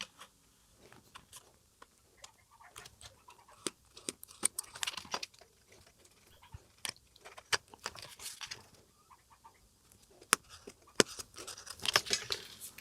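Scissors snip and trim cord while restoring a Blaupunkt Sultan 24300 radio, giving faint, close, scattered clicks and small crisp cuts with quiet handling sounds between them.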